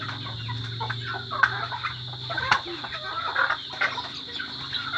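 Chickens cluck and call in a busy outdoor barnyard, with a steady low hum and scattered clatter in the background.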